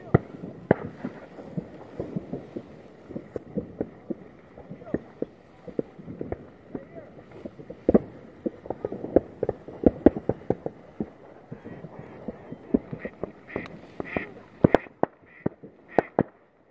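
Fireworks shot off at a lake, many sharp pops and crackles in irregular bursts across the stretch, some near and loud, others softer, with people talking throughout.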